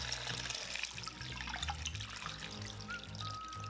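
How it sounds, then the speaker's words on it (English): Quiet, steady pour of 3 quarts of water into a pot of kitchen scraps for chicken stock, a continuous trickling splash with faint clinks in the background. "Also pour in another 3 quarts of water."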